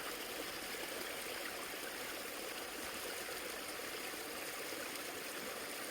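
A forest creek flows steadily beneath pine trees, its broad, continuous rush of water close and even throughout, with no voices or other sounds.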